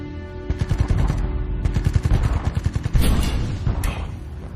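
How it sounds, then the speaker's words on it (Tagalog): Rapid bursts of gunfire, a dense rattling string of sharp cracks like automatic fire, loud and continuous with heavier booms mixed in. "Parang putok ng baril yun"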